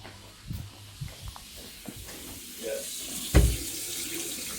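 Hot water runs from a tap served by a repaired Biasi combi boiler, a steady hiss of flow with a few brief knocks and clunks, fairly close.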